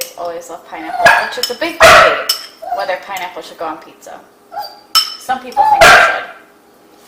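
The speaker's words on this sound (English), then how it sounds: "And you can hear our dogs in the background." Pet dogs bark in short bursts while pizza is being made at home, with dishes and cutlery clinking. The barks sit under a person talking in the foreground.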